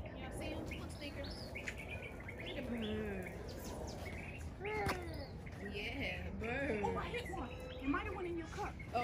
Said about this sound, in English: Birds. Yeah, birds.